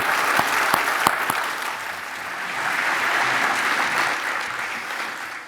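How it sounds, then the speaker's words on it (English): A conference audience at the NC25 mainstage gives Dave a big round of applause. A few sharp, close claps at the start swell into a dense, loud, sustained ovation that carries on to the end. "Let's give Dave a big round of applause and thanks for his appreciation."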